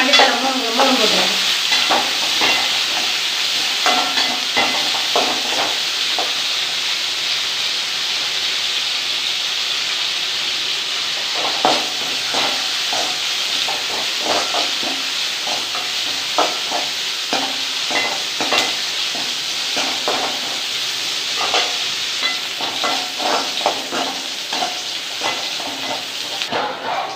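Onions, curry leaves and coriander stems fry in hot oil for a banana gravy, a steady loud sizzle with frequent stirring scrapes running throughout.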